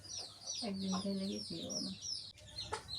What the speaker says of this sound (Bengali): মুরগিকে দেখেন কি আনন্দ সহকারে খাইতেছে